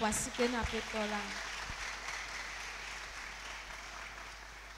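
A church congregation applauds and cheers, a broad wash of clapping that starts over a brief voice and then holds steady, slowly fading.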